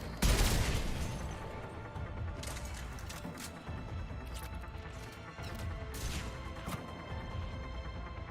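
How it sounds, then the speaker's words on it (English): Video game gunfire starts with a loud burst, then settles into a sustained, rattling barrage of rapid shots that continues steadily at moderate volume. "What is shooting me?"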